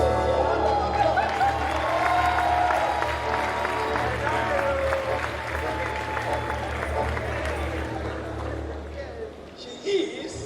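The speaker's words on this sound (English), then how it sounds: "I think we need to give this young lady a hand of applause." Audience applause at a swearing-in and oath-taking ceremony, a steady broadband clapping wash that holds for about nine seconds, with background voices and a low hum running underneath before it thins out near the end.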